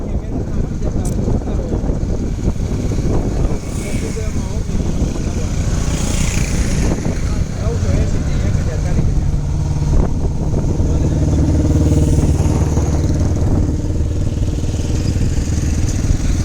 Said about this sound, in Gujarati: કેટલા બધા ટ્રેક્ટર જ છે વધારે